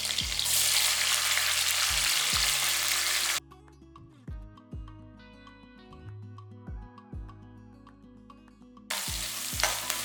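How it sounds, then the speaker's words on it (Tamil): Small shallots fry in hot oil for a mutton gravy with a loud, crackling sizzle at the start and again at the end, while background music fills the stretch in between. "நல்ல வெங்காயம் நல்லா பொரியட்டும்"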